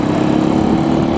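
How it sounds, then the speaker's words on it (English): The single-cylinder engine of a Janus Halcyon 450 motorcycle, rated at 30 horsepower, runs with a loud, steady, close drone throughout, with no speech. "It's a 30 horsepower single cylinder engine."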